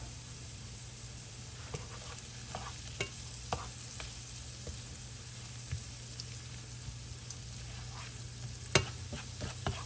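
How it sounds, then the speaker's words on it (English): Garlic and butter sizzling in a pan with green beans, a low, even frying hiss under scattered stirring taps and one sharp clank, close but quiet, with no speech. "now that that garlic is starting to cook down a little bit, we're gonna go ahead and throw in a little bit more butter"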